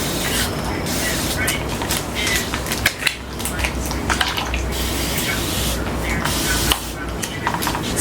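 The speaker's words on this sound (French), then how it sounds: "Ça c'est un humidificateur continu, donc même quand tu lâches ça, ça continue de vaporiser sur tes cheveux" Continuous-mist spray bottle misting water onto hair, a steady soft hiss running unbroken for several seconds with small clicks and handling noises over it.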